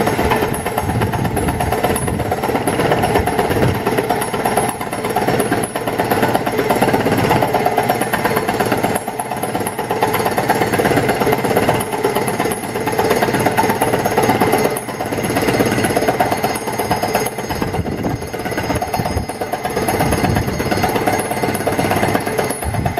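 A milling machine regrooving a steel roller from a grain roller mill, a steady loud grinding chatter of the cutter with a constant motor drone that holds unbroken and close throughout.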